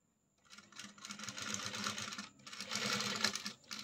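A sewing machine runs in two steady bursts of rapid, even stitching on a blouse, close and fairly quiet, with a brief pause between runs and no talk.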